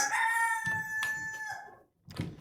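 A rooster crows loud and close among backyard hens, its harmonic call stretching over about a second and a half before breaking off, followed by rustling and shuffling noises.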